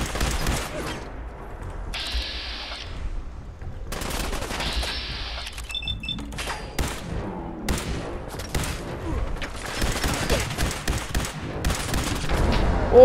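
Gunfire and mechanical clatter in the Fallout 4 video game, with repeated bursts of shots and sharp impacts scattered through a busy mix of game sounds.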